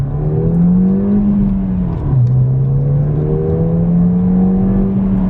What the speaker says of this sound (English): now the cold air intake is installed, so we're gonna let you hear it